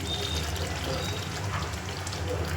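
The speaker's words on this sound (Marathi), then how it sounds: "मग त्याच्यानंतर आपण थोडंसं पाणी सोडायचं" A little water is poured into egg curry masala in a pan, giving a close, steady splashing trickle that lasts the whole moment, with a faint voice in the background.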